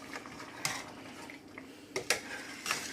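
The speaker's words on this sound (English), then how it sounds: "Let's give that a stir." Mutton curry being stirred in a pot just after hot water is added for the sauce, with a few sharp clinks of a utensil against the metal pot over a low, steady background.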